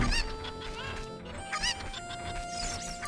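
Chickens cluck and squawk in the video game The Legend of Zelda: Ocarina of Time, several short fowl calls over game music with sustained tones.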